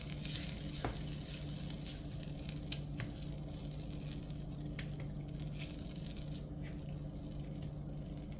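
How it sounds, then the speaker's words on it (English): Butter melts in a pan on medium heat with a soft, steady sizzle and faint crackling pops, continuous and close, with no voices. "Just allow the butter to melt."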